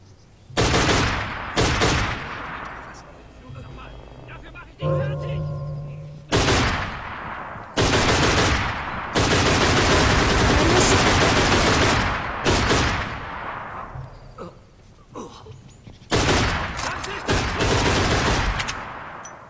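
Heavy gunfire in the Velvet Assassin game comes in loud, close bursts of sustained automatic shooting separated by short pauses, with a few single shots and mechanical clatter between volleys and no talk.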